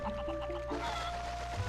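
A chicken in Zelda Twilight Princess HD gives a few short clucks, faint and close, over a steady low game background hum.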